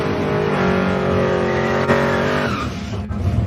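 A 1969 Ford Torino Cobra with a 429 Cobra Jet V8 revs loudly and steadily up close, its engine tone rising, with a brief tire squeal and a sharp drop near the end.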